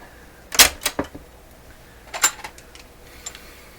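A Sanyo GXT4505K combo's cassette tape deck under test gives a few sharp mechanical clunks and clicks, grouped in two short bursts of button presses and mechanism thuds with quiet gaps between.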